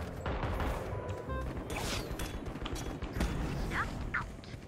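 Rapid gunfire from a gun in the shooter game Valorant crackles in a dense, continuous burst with mechanical clatter, moderately loud and without talk.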